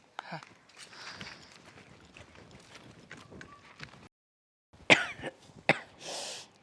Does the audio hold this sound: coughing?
yes